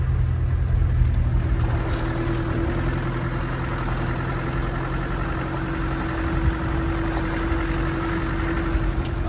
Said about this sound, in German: wir parken jetzt den Wagen